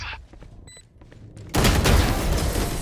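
A grenade launches in Valorant: a sharp thump, then a loud, sustained blast that fills the rest of the moment, after quieter footsteps and clicks.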